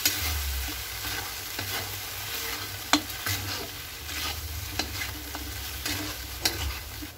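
Potato and paneer are mixed with cornstarch in a hot pan for chilli paneer, giving a continuous sizzle under irregular spoon scrapes and taps against the pan, close up, with low rumbling and no speech.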